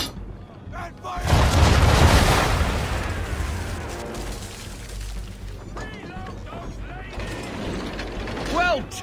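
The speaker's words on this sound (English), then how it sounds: "Bring around broadside, and when all guns are on target, call fire." Ship cannons fire a heavy broadside in Assassin's Creed 3, a loud, booming rolling blast early on that decays into rumble, followed by creaking ship mechanisms and brief voices.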